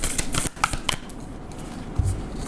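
Tarot cards rustle, slide and snap as they are shuffled and drawn from the deck, a quick run of crisp papery flicks up close followed by a quieter pause and a soft tap, with no speech.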